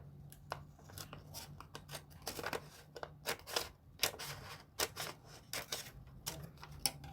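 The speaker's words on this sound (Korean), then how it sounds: "가위로 자를 거예요." Scissors snip through folded colored paper square, a series of short crisp cuts in an irregular rhythm, close and fairly quiet with no talking.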